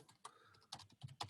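Keystrokes on a small computer keyboard, a handful of quick, light clicks in an uneven rhythm, close and fairly quiet with no voices.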